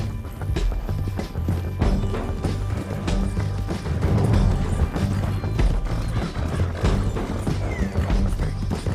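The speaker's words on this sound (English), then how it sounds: "Damn horse!" Horse galloping hooves in the video game Red Dead Redemption 2, a dense steady clip-clop pounding with scattered crashes, game music and a possible whinny, loud and continuous throughout.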